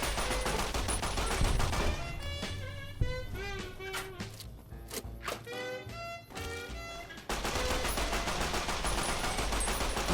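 Magnum revolver gunfire in Fallout: New Vegas: loud, dense gunshots fill the opening seconds, then a sparser stretch of separate sharp reports, then heavy firing returns for the final few seconds.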